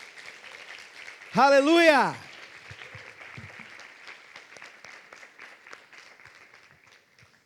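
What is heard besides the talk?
congregation applauding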